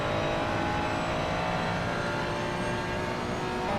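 A race car engine revving in a racing game, Laguna Seca sprint session, a steady dense high-pitched roar held at sustained revs for several seconds, loud and continuous with no talk.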